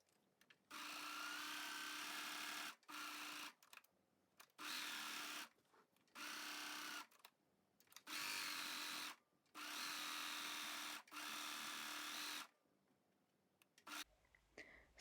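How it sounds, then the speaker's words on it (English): A regular sewing machine zigzag-stitches around the edges of fabric for elastic waist culottes, running in about eight steady bursts of a few seconds each with short pauses between, close and fairly loud, with no talking. "Sew around all the edges of the fabric to make sure it doesn't fray."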